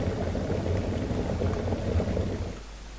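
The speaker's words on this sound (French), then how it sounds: "L'eau va commencer à bouillir." Water boiling inside a pressurized water reactor in a nuclear power simulation game: a steady, dense bubbling rumble that fills the clip at moderate level, then drops away abruptly near the end.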